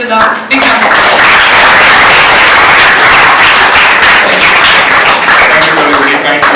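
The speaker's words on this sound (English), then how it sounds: "Please welcome Mr. Sathya Prasad on stage with a big round of applause" Loud, dense applause from a large crowd welcoming a speaker on stage at the KHMD INFUSE 2015 event fills the space continuously, with faint voices mixed in.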